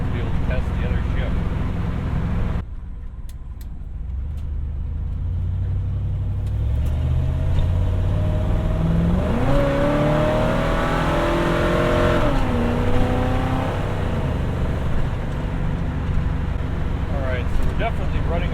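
A 1970 Chevelle SS V8 accelerates hard on the road, revving up through the gears with a rising engine note and audible shift changes, loud and close from inside the car, with someone talking over it.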